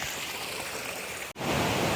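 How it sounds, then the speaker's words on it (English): A mountain river flows in a steady, loud, broadband rush that fills the whole clip with no break, close by. "Got to cross the river again."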